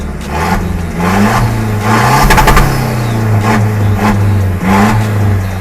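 A Toyota Vigo pickup with a tuned D-Max throttle revs hard and close, its loud engine rising and falling in several quick blips with a rough, throaty drone.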